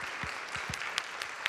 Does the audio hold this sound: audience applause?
yes